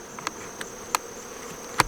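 A soft, continuous hum of honey bees circling an Apimaye hive outdoors, with scattered brief clicks and knocks.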